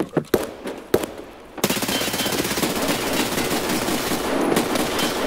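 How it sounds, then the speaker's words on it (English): Automatic gunfire in Escape from Tarkov: a few sharp separate shots at first, then a sustained dense rattle of rapid fire filling the rest of the moment, loud and close, no voices. "Who's shooting?"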